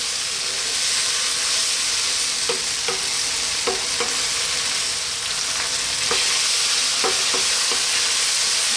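Mushroom tomato pasta sauce sizzles steadily in a pan over fairly high heat, a loud constant hiss with occasional scraping stirs of a utensil, no one talking.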